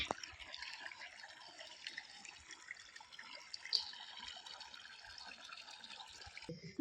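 Faint, steady rush of running water, like a tap flowing at a distance, continuous throughout with small splashy fluctuations.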